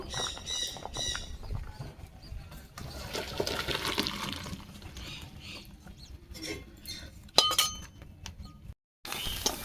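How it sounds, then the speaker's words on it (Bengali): Water is drained off boiled elephant foot yam and potatoes, a rushing, splashing pour with a few clinks of the pot, fading briefly to silence near the end. "জলটা ছেঁকে নেব"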